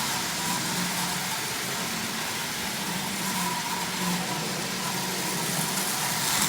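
A restored prewar Marx toy train motor, once frozen and now derusted, runs steadily at half power with a continuous mechanical whir and faint hum, close and even throughout with no voices.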